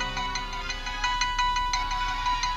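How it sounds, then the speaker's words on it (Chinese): A mobile phone ringtone plays as a steady repeating electronic melody, moderately loud and alone, in an indoor scene. "你先接电话"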